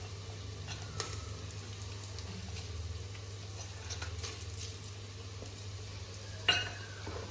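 Whole spices dropped into a hot pan for sambar, giving a steady soft sizzle and patter with a brief clink of a utensil near the end, no talk.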